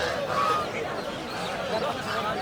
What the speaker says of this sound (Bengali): এখানে দেখতে পাচ্ছেন বিভিন্ন সাইজের বড় বড় রাজহাঁস।